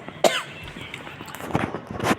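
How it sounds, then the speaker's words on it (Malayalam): A person coughs several times, a sharp cough near the start and two more toward the end, close and fairly loud over quiet background noise. "ചുമയാണ്"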